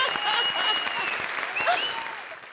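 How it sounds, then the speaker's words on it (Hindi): Studio audience applause on a Hindi comedy show stage, a loud burst of clapping with some crowd noise and brief vocal sounds mixed in, slowly tapering toward the end. "ठोकर ताली बंदी के लिए"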